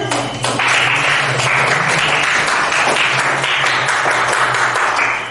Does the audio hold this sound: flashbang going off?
no